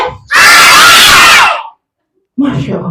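A group of children yells "hooray" together in one loud, sustained shout lasting about a second, then falls silent before a voice starts talking.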